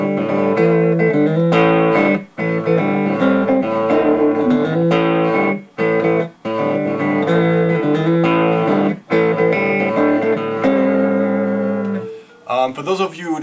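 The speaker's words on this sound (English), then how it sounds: "It's a Tele-shaped Crook Custom Telecaster." A Crook Custom Telecaster electric guitar with TV Jones and Lollar pickups plays chords and riffs, loud and close, with short breaks between phrases.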